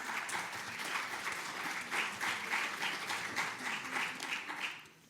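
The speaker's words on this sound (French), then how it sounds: "merci pour les applaudissements" An audience at a mental health presentation applauds in a full, moderately loud round of clapping with slight pulsing swells, tapering off at the very end.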